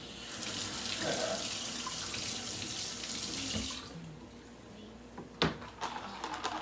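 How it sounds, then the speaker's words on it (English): Water from a running kitchen tap splashes steadily into a sink while something is rinsed under it, loud and close, then shuts off, followed by a few clunks and knocks nearby. "Rinse this off here"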